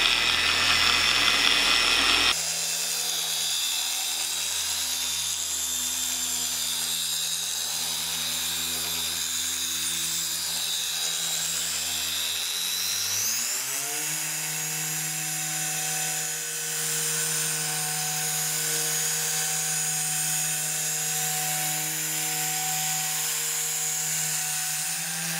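A car polisher runs steadily on its lowest setting, spreading polish over a truck's paint, its motor hum close and continuous, with a slight pitch shift midway and no talking.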